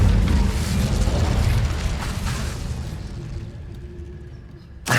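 Incendio fire spell in Hogwarts Legacy, a booming burst of fire with a heavy low rumble that slowly dies away, ending in a brief sharp pop.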